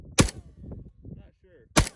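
Two sharp, loud rifle shots about a second and a half apart, firing from a 30-round standard magazine, with low talk and shuffling between the blasts.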